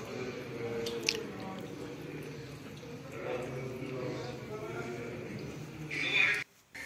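Cooked rice being drained of its water, giving a steady wet squishing and dripping that swells briefly before a sudden cut to near silence.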